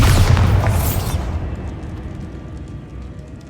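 Bombarda explosion spell in the Hogwarts Legacy video game, one loud, close blast with a bright crackling burst that rolls off into a long, fading rumble.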